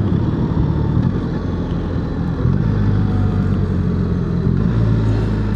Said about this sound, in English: Oh, she downshifts nice.